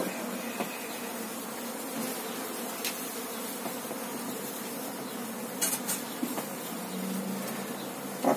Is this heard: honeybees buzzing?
yes